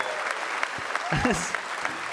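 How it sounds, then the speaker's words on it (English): Comedy club audience at the Olympia breaking into a loud, dense round of applause, sustained clapping close up with a voice heard over it. "Let's have a massive round of applause for everybody here"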